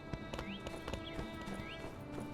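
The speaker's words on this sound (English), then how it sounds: "what's wrong with your horse? Why are you stuck in the wall?" Horse hooves clip-clop in a steady, close rhythm in the video game My Time at Sandrock, with brief neighs and game chimes mixed in; no one speaks.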